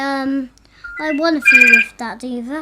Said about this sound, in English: The phone rang in the middle of the last recording session.